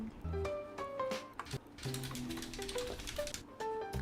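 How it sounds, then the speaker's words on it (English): Keyboard typing in a Korean office-themed video game, a quick burst of clicky keystrokes mixed with short game tones and chimes, close and busy over a few seconds with no voices. "she's fucking pretending to type"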